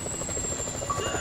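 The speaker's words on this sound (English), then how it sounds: "Chopper, incoming!" A helicopter in the video game GTA 5 drones with a rapid, steady rotor chop and a high whine on top, fairly loud and alone with no talking.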